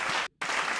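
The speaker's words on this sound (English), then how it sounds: "You get the clapping sound effect." A canned clapping sound effect in a podcast, a dense burst of applause lasting under a second and broken by a brief gap of silence.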